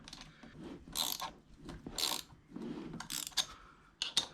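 A chain breaker tool being screwed in and out on the chain of a Honda NC750x motorcycle, close quiet ratcheting clicks and metallic grinding in short separate bursts.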